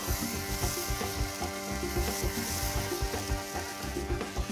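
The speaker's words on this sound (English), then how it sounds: "the sizzling's telling me that it's nearly ready to turn" Steady crackling sizzle of picanha (rump cap) cooking over high heat on a kamado grill, dense and continuous with small pops and spits scattered throughout.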